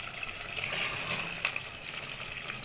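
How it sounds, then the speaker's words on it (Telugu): Water boils in a cooking pot while mutton dum biryani is prepared, giving a faint, steady bubbling hiss with a few small pops. "చూడండి ఇంకా నీళ్ళు బాగా మరుగుతున్నాయి కదా మనకి"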